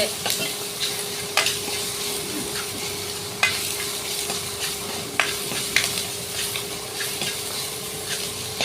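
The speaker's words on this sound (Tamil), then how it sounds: "நல்லா கிண்டி விட்டுக்கோங்க" Egg curry masala fries in a little oil while a spoon stirs it, giving a soft continuous sizzle with scattered scrapes and light clinks against the pan, a steady low hum running beneath.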